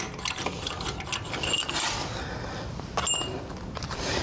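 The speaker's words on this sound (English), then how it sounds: "Install that last lug bolt." Ratcheting clicks from a tire iron or wrench tightening a lug bolt on an Audi Q5 spare tire, a steady close mechanical rattle running through the clip with a few brighter metallic ticks.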